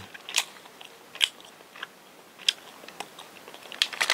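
Biting and chewing injeolmi cream bread, a soft rice-cake bread filled with whipped cream, heard close up as sharp individual bites and quiet crackly chewing at irregular intervals, with no talk.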